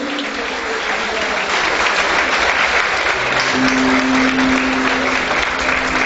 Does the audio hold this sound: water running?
no